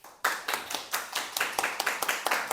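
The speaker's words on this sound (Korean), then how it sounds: "박수로 환영 부탁드립니다." Applause welcoming Professor Kim Sang-tae, a Pyeongtaek University economist, at a seminar lecture, with fairly close individual claps in a steady, dense rhythm lasting a couple of seconds.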